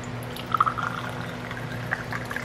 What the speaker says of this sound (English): And now we can add the cachaça